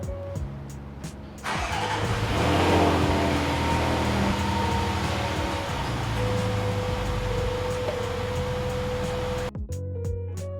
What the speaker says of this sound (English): let's go ahead and turn the vehicle on, put it in reverse, and see how they look